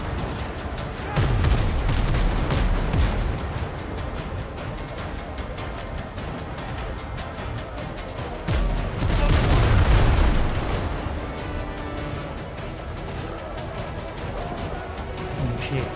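Ship cannon fire from the video game Windrose booms in heavy volleys of rapid, overlapping blasts and crashes, loud and continuous, swelling in two bigger bursts.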